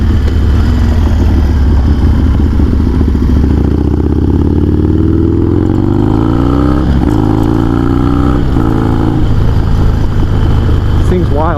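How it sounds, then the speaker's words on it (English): A Harley-Davidson Sportster motorcycle engine roars loud and close, revving up and down in rising and falling sweeps, with a rider's voice mixed in. "this Harley rips, dude"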